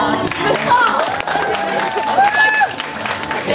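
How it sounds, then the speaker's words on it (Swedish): An audience at a cosplay show in a bookshop claps and cheers, a dense, steady applause with shouting voices and whistles mixed in near the stage. "En applåd!"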